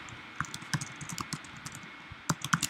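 Fast, uneven typing on a computer keyboard, close by, with scattered key clicks and a few sharper taps, no talking.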